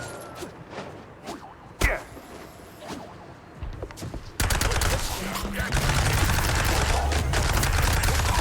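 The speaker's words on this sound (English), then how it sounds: "Yeah, this SMG seems really good." Submachine gun fire from a cartoon mouse detective shooter, erupting into a loud sustained burst after a few scattered quieter shots and game sounds.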